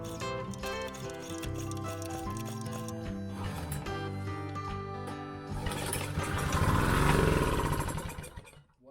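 A restored BCS Ferrari 330 two-wheeled tractor with a small Honda GX petrol engine runs steadily near by with a dense mechanical putter, rising a little in revs toward the end before cutting out abruptly.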